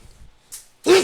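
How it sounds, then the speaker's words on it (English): A single human sneeze, sharp and close, following a brief soft breathy intake, recorded during a classroom physics lesson. "I want to sneeze."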